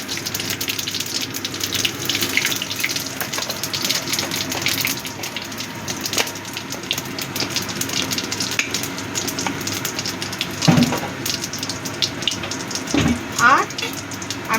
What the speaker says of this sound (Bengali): এবার ওই তেলের মধ্যেই দিয়ে দিচ্ছি গোটা জিরে ফোড়ন